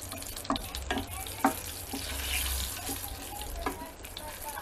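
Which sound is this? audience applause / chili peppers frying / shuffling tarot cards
chili peppers frying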